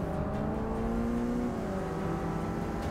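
Race car engine accelerating in the racing video game Forza Motorsport 6, a steady droning whine with rising pitch and a constant loud level throughout, with no talking.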